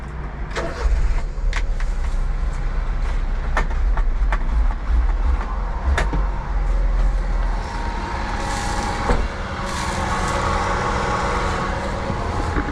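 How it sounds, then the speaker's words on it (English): An old kei truck that has been sitting for a while idles unevenly after a jump-start booster is attached, a close, continuous engine rumble broken by clicks and knocks throughout. "Sounds like a car that's been sitting for a while."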